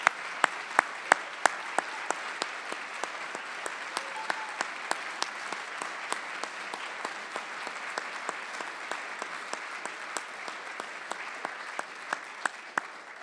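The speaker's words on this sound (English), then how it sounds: "please join me as we give another round of applause for all 4 of our Alumni Medallion" Sustained audience applause at an alumni medallion ceremony, steady dense clapping from a large crowd with sharper individual claps standing out, continuing throughout without voices.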